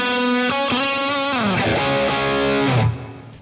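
Electric guitar with an overdriven drive tone through a Boss Katana amp with reverb added, a few strummed chords and sustained notes ringing out, then the final chord rings briefly and is cut off.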